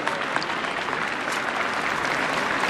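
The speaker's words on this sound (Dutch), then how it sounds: "Applaus." Applause from the crowd at the 2010 Dutch Remembrance Day ceremony, a thick continuous roar of clapping from a large gathering outdoors, even and unbroken for the whole stretch with no talk.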